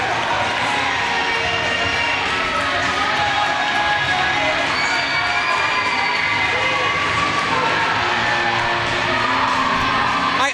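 A wrestling crowd at an Ace Pro Wrestling event roars and cheers for the wrestlers, a loud, sustained wall of noise with whoops, yells and children's shouts throughout.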